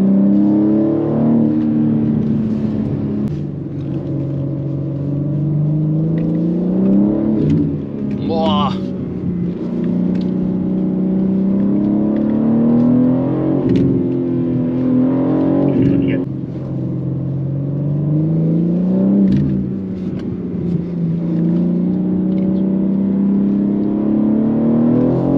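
A 2023 BMW M3 G80 engine rising and falling through repeated accelerations on an open road, heard from inside the car with a loud, strong rumble. The pitch sweeps up and drops at each gear change, with a few brief clicks.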